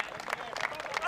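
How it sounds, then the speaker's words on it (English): Teammates applaud a cricket batsman at a European Cricket League match in Spain, a short, fairly distant patter of clapping under a commentator's voice. "he's getting a nice round of applause from his teammates"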